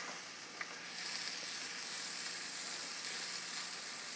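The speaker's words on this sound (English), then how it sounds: "We're going to let these red onions caramelize." Red onions sizzle as they fry and caramelize in a pan, a steady close hiss with faint crackling and one small pop early on.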